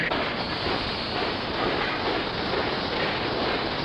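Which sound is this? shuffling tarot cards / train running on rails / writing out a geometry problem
train running on rails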